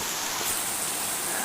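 Heavy rain pours steadily and loudly in a hiss with no breaks, while a crowd gathers at a Shiva temple in Jorhat, Assam.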